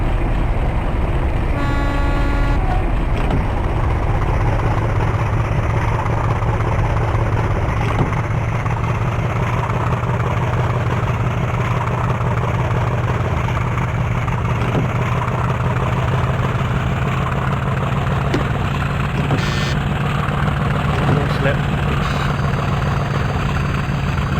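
A Class 50 diesel locomotive in the OpenRails train simulator pulls away toward Darley Dale on Peak Rail, its deep engine drone steady and loud for the whole stretch with no talking over it.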